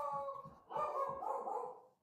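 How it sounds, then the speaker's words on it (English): Dogs barking in the background of a live call, a few muffled, somewhat distant barks and whimpering tones heard without any speech over them. "Dogs are barking."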